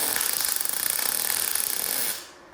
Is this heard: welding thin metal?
yes